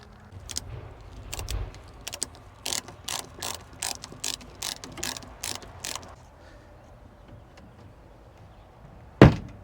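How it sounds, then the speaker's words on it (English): A flimsy little latch on a chicken coop being worked, heard as a run of close, sharp, ratcheting clicks in uneven rhythm, then a pause and a single loud snap near the end. "let's make sure you hear that click before you get your head in there"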